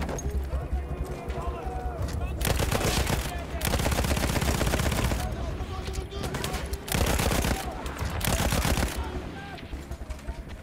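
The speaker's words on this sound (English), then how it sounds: "good old Lewis gun here." Sustained bursts of rapid automatic fire from a Lewis gun in the World War I shooter Battlefield 1, loud and close, broken by short pauses, with battlefield din and a voice talking over it.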